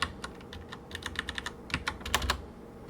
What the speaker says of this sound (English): I don't know why I'm typing it in